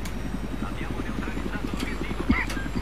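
A helicopter in Battlefield, on the desert Armored Kill map, gives a loud, continuous, fast chop of rotor blades close by, with a brief thump near the end.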